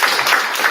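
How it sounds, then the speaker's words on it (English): Audience applause for a panel at a legislative advocacy day, a brief burst of steady clapping from a crowd, fairly loud and continuous. "Let's give a round of applause to our panelists"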